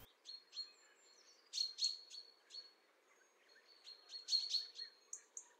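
Thin, high chirping calls from a fieldfare, repeated in short scattered bursts with pauses between, fairly faint against a quiet background.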